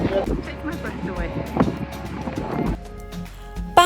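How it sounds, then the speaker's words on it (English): Wind buffets the microphone on the open deck of the cruise ship Ambassador Ambience, a rough low roar that drops away near the end, while a person talks over it. "It's a little bit windy."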